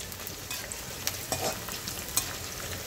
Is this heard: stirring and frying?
yes